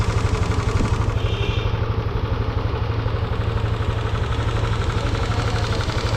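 A Yamaha Aerox scooter engine runs after a stator change, idling with a steady, rapid mechanical putter and clatter close to the microphone, even and unbroken throughout with no talk.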